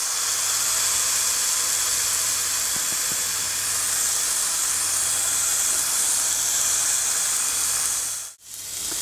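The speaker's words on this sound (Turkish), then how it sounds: "Tabamyza azajyk ýağ goýanmyzdan sonra etimizi alýas ve gyzatmagyna goýýas." Steady, loud hiss of meat for antrikot searing in a little oil in a pan, continuous broadband sizzle with a brief dip near the end.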